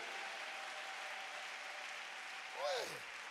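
A church congregation applauding and cheering for Jesus, a continuous wash of clapping heard from some distance, with a brief vocal shout rising near the end.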